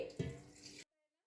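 A short splash of water, rinsed from a marinating bowl, goes into a handi of village-style mutton curry, a brief pour of under a second that stops abruptly into silence.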